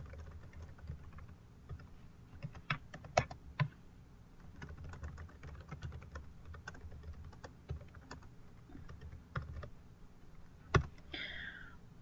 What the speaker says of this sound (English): I will type up some questions for her to answer.